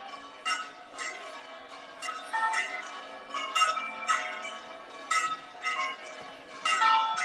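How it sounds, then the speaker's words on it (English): Church bells ring outside a church in Constantina during a religious procession returning a Virgin image to her hermitage, with repeated clanging strikes in irregular bursts, moderately close and ringing out over a quiet background. "The bells are ringing."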